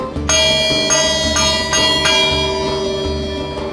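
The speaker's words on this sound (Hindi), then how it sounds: "हर ट्रेन की आमद से 10-12 मिनट पहले घंटी बजती है, जो दरअसल अपने स्टाफ को अलर्ट करती है।" Railway station bell at Lalamusa Junction in Pakistan, struck several times in a steady series of ringing metallic strokes that sustain and overlap, loud and close.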